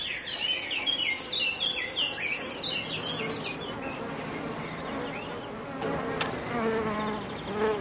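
A hoverfly buzzes on a chamomile flower, a thin, close insect drone that wavers in pitch and runs unbroken alone over quiet surroundings.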